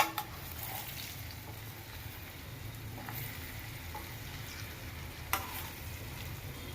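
Stuffed spiny gourd (kantola) curry sizzling softly in a pan on low flame, with a few brief clinks and scrapes of stirring over the steady frying hiss.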